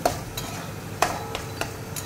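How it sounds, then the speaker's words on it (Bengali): Taro leaves (kochu shaak) cook in oil with ilish fish head, a low steady sizzle punctuated by several sharp clinks and scrapes of a spatula stirring against the pan. "এই দেখো কচুর শাক যত ভাজা হবে খেতে অত টেস্ট হয়"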